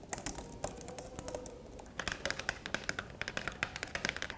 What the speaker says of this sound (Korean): 가위식 키보드는 키패드를 칠 때 소리가 많이 나잖아요